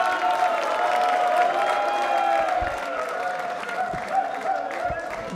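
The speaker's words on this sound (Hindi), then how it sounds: "तालियां बजाइए, जोरों से बजाइए इनके लिए।" Audience applause at a yoga day quiz show, a steady wash of clapping from a crowd over several seconds, with some talk and murmur mixed in.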